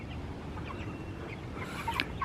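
Soft clucking and chirpy calls from chickens, faint over a steady low background rumble, with a slightly louder call near the end.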